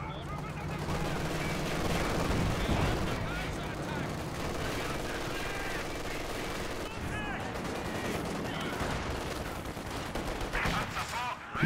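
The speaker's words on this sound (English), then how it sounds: "Get rid of this machine gun." Machine gun fire in Company of Heroes 2 rattles through a dense, continuous battlefield din, with steady bursts under rumbling explosions and a sharp blast at the very end.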